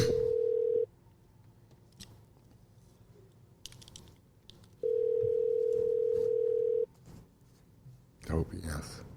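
A telephone dial tone sounds while a call is placed, two steady tones of about a second and two seconds with a quiet gap between them, followed by a brief burst of handset noise at the end.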